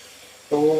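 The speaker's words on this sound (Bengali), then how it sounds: "সেদ্ধ চিকেন দেওয়ার পরে ভালো করে নাড়াতে হবে" Boiled chicken pieces for chicken bharta land in a hot pan and start sizzling loudly, a sudden close frying hiss that holds steady after a quiet start.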